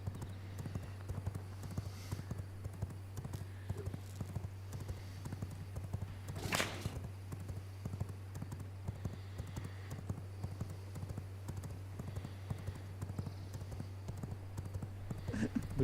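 In the game V Rising, a horse's hooves clip-clop at a steady, soft rhythm over a constant low hum, with one brief brighter sound in the middle and a voice speaking in the background.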